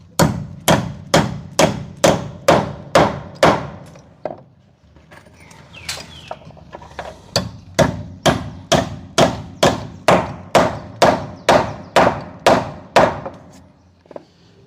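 Hammer blows drive a nail into a wooden piece during carpentry finishing work: a steady run of sharp, loud strikes, a short pause with softer handling noise, then another even burst of blows.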